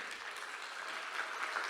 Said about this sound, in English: this round of applause means that you know where you are